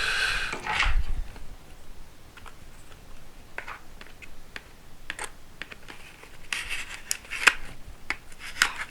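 A Nintendo Switch 2 box is opened during an unboxing, with scattered close rustles, scrapes and tearing of cardboard and packaging, quiet at times and then busier toward the end.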